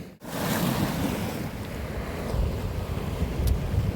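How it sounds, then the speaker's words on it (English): Ocean surf breaking on a rough, rocky shore during sea fishing, a steady broadband wash with swells rising and falling over heavy wind noise on the microphone, no talking. "listen to the waves"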